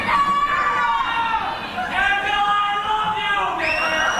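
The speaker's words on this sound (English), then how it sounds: "Got some cheering sections out there." Cheering sections in a commencement audience at a fall 2006 graduation raise a steady wash of crowd chatter with scattered whoops and shouts, fairly loud and continuous throughout, without a distinct lead voice.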